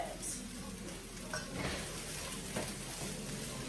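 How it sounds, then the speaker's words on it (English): Food sautés in a pan with a soft, continuous sizzle and occasional stirring scrapes, quiet and close with no talking. "Saute for a little bit."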